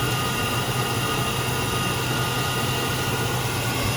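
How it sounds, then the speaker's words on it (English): A used pickup truck engine idles steadily with a constant low rumble and a continuous even hum, close and unchanging throughout, with no voices. "Engine sounds smooth."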